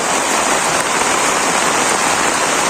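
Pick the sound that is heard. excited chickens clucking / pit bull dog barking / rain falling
rain falling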